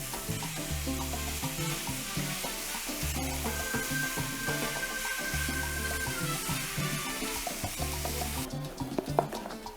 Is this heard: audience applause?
no